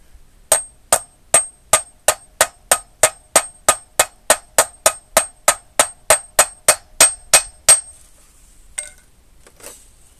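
A hammer tapping a front wheel bearing into a mobility scooter wheel: about twenty-two sharp, evenly spaced metallic taps, close and ringing, then a few softer scattered knocks after the strikes stop.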